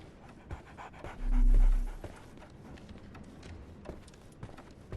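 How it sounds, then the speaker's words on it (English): A dog pants in a brief burst of quick, breathy huffs inside the Sherlock Holmes The Awakened video game, close and fairly quiet against a low ambient background. "So, Barnes has a dog now."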